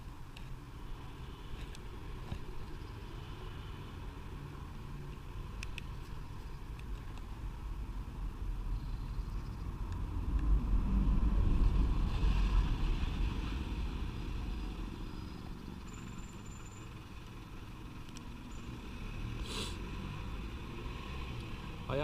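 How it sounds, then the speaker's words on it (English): Busy roadside traffic with buses and bin lorries passing: a steady low engine rumble that swells as a heavy vehicle goes by midway, then eases back to a constant hum, no talk. "I am working on a road here, it's quite busy, buses and bin men travelling past, so that's probably the noise you're hearing at the moment."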